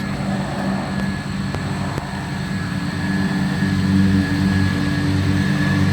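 Pressure washer spraying the wheels of a Volvo 240, a loud steady hiss and motor drone running continuously up close without a break.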